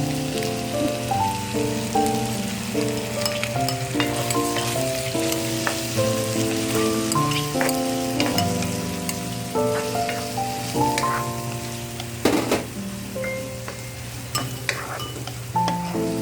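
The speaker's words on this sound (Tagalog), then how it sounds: "Gigisahin natin mabuti ang chicken." Chicken sizzles and crackles steadily as it is sautéed and stirred in a pan with chasiu sauce for Charlie Chan pasta, a continuous close frying hiss under light background music.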